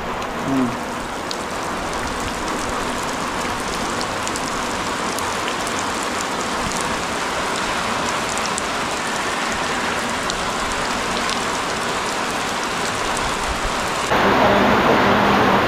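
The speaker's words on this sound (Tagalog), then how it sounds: "Yan po ang lakas ng ulan." Heavy rain pours down steadily, a dense continuous hiss of drops drumming on surfaces, with a faint voice briefly near the start.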